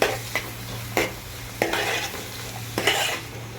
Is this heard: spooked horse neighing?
no